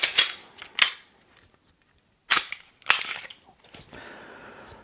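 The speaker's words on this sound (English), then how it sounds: "I'll go ahead and take the slide off for this." The slide comes off a Glock 34 pistol with a few sharp, close metallic clicks and snaps, spaced out across a few seconds in an otherwise quiet room, with no talking.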